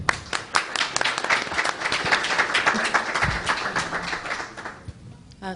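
Steady applause from a conference audience honoring a Congresswoman at a blockchain summit, dense overlapping claps that thin out and fade near the end.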